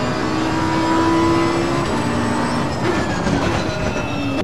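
A race car engine drones in the racing game Assetto Corsa Competizione, a loud sustained roar with rising and shifting tonal whine across the clip, no talking.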